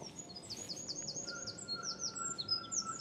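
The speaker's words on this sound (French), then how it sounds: "il y a des vrais oiseaux qui se mélangent" Small birds at Disneyland Paris chirp in quick repeated high tweets, a busy flurry of short calls with one longer whistled note, fairly faint over a soft background hum.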